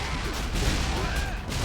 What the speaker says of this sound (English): You're throwing grenades.